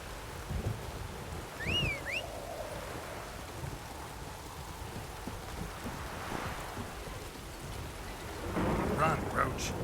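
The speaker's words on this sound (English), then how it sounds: "Proper downpour this is." Heavy rain pours down as a steady wash in a stormy Witcher 3 game scene, with dull low rumbles of thunder through it and a louder burst near the end; a brief tonal cry rings out early on.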